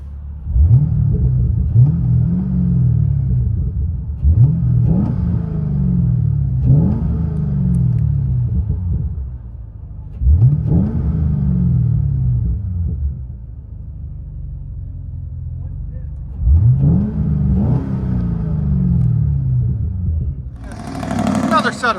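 A 2014 Chevy Camaro 2SS with a 6.2-liter V8, cold air intake, X-pipe and Magnaflow exhaust, revved in a series of sharp, deep blips with rumbling idle between, loud and close; voices speak over it.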